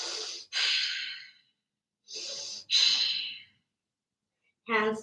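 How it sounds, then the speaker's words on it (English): Two deep, slow yoga breaths, each a long audible inhale followed by a longer airy exhale, close and clear with silent pauses between, then the start of a voice at the end. "2 deep breaths"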